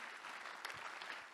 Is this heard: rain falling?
no